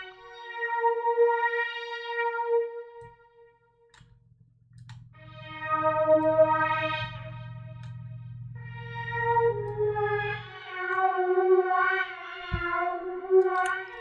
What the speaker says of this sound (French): je vais mettre du chorus.